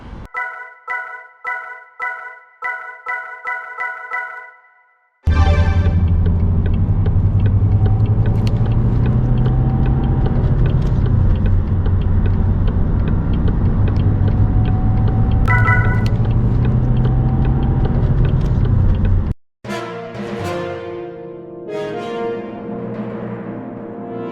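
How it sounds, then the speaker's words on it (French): A 2015 Citroën C5 2.0 HDi 140 Exclusive diesel on the road, with a steady engine hum and rising rumble after a brief burst of electronic chimes, then a short break before more tones and engine sound. "Nous voici au volant de la C5 2 litres HDI 140 chevaux, exclusive"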